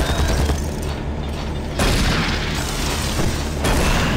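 Shooting in Doom 3 comes as a dense, loud, continuous barrage of booming gunfire and explosive blasts. A brief lull falls partway through before the heavy firing resumes.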